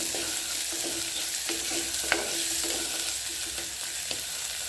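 Vegetables fry in oil in a pan, a continuous close sizzle and crackle punctuated by soft periodic clicks and scrapes of stirring, with no talk.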